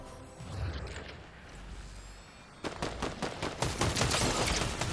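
Gunfire in the video game Fortnite starts with a dull, muffled stretch, then rapid bursts of close, loud shots crackle in a quick, uneven rhythm through the second half.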